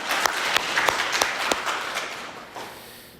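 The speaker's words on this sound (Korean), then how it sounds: "사망 권세를 이기시고 부활하신 우리 주님 앞에 다시 한 번 더 영광의 박수를 올려드리겠습니다." Church congregation clapping at an Easter Sunday service, a scattered burst of claps that thins out and fades toward the end, moderately distant with room echo.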